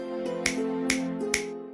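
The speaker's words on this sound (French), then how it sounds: "D'un claquement de doigts" Three crisp finger snaps ring out at an even pace, each a sharp close click with a short tail, over a steady sustained musical tone in a narrated fairy tale about a genie.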